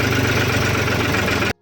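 A tractor engine idles steadily at close range, a continuous low, even throb with a regular pulsing rhythm that cuts off abruptly near the end.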